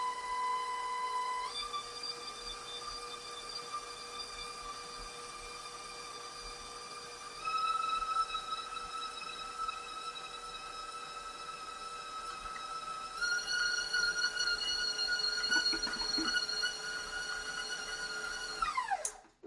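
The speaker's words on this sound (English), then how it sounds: "this mixer loves to sing. I'm sure my neighbors love me whenever I use my mixer." An electric stand mixer runs continuously with a loud, singing mechanical whine, mixing buttercream frosting with powdered sugar. Its pitch steps up twice as the speed increases, and the whine cuts off abruptly at the end.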